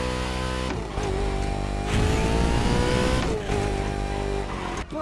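Swapped car engine in The Crew Motorfest revving loudly and continuously, with rising and falling pitch through gear changes and a steady synthetic, retro video-game tone, heard alone without talk.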